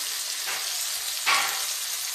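Tomatoes frying in a pan for masoor dal with drumsticks, a steady close hiss of sizzling with a brief louder flare of spatter partway through, no voices.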